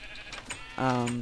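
A sheep in a survival video game lets out a single short, nasal bleat near the end, close and clear, after a stretch of quieter background game noise.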